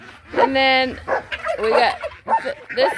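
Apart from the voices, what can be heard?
dog barking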